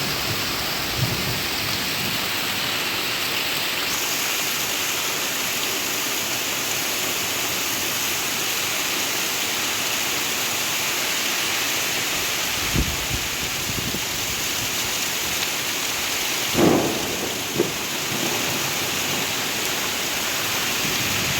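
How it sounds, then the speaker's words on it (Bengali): Heavy rain pours in a constant loud roar throughout, broken by a few distant rumbles and sharper cracks of thunder, with no voices. "আর মেঘ ডাকছে গাইস,"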